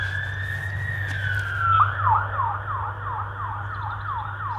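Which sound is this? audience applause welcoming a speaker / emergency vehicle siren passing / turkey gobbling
emergency vehicle siren passing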